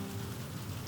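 Soothing rain falls steadily on a surface, a dense, even hiss with soft drop patter and no voices.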